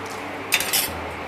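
Roasted poha namkeen ingredients being gently mixed with a spoon, giving a brief soft burst of clinking and scraping against the bowl partway through, otherwise quiet.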